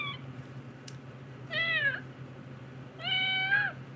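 A person imitates a cat, giving two drawn-out meows about a second and a half apart over a quiet, low background hum.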